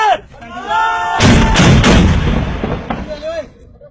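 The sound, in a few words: mortar fire at the border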